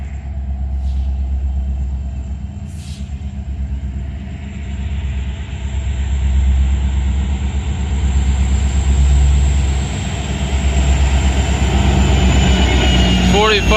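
A freight train headed for Chicago rolls past on the rails in overcast weather, a heavy steady rumble of cars building in loudness, with a high-pitched squeal and clatter toward the end.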